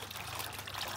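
Warm water trickles and pours steadily into a bath for a dog named Marco, a soft, continuous splashing stream.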